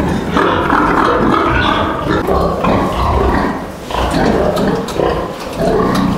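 A Yorkshire-Landrace F1 sow feeding her piglets: loud, close, rough grunting and squealing in overlapping bursts, with brief dips between the noisy surges.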